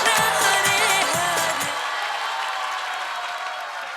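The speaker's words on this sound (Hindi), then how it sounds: "ये आपकी ताली और हरि बोल की आवाज़ बताएगा।" Applause with rhythmic shouting rises from an audience at an ISKCON gathering in Ghaziabad, loud and dense at first, then thinning into a softer lingering crowd wash.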